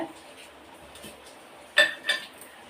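A kadai pan set down on a lit stove gives a couple of short metallic clanks near the end after quiet background rumble.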